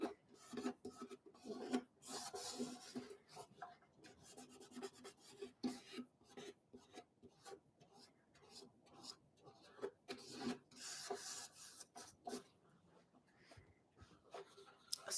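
Soft, close rubbing of a French polishing pad over spirit varnish on a violin, quiet irregular swishing strokes with faint scratchy texture and no talk.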